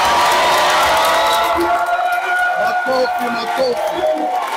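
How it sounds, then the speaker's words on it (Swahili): A large crowd at a Tanzanian public gathering cheers and applauds loudly and continuously, with whoops and shouts rising over steady clapping and voices. "Makofi."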